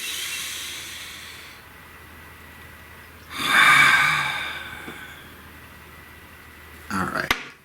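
One slow, deep breath drawn in and let out, a breathy hiss swelling in the middle and fading, with a quiet room before and after and a brief rustle near the end.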